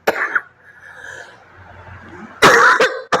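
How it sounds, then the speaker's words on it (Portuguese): A woman coughs during a spiritist lecture: one short cough at the start, then a quiet breathy stretch, and two loud harsh coughs near the end, close to the microphone. "A tosse."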